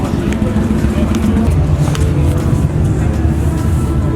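A Mazda Miata fitted with an LS engine rumbles with a deep, steady engine drone at moderate distance, mixed with nearby crowd chatter and voices talking over it.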